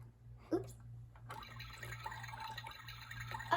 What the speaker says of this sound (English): Now let's pour a little bit more for my other guest